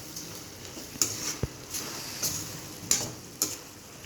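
A spoon stirs tomato and ridge gourd in a pan for chutney, giving a few scattered scraping clicks over a faint, low sizzle.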